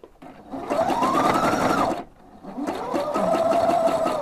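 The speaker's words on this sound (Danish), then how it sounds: "Her syr jeg på Husqvarna Opal 670." A Husqvarna Opal 670 sewing machine set for heavy stretch fabric runs two stitching bursts, a steady close motor whir rising and falling in speed with a brief pause between them.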